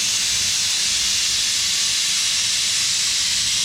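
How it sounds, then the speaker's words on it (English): Pneumatic lift table lowering a Bolens MTD riding mower gives off a continuous, loud, steady air hiss with no change in level, no talking. "Let me lower the table a little bit"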